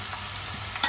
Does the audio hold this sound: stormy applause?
no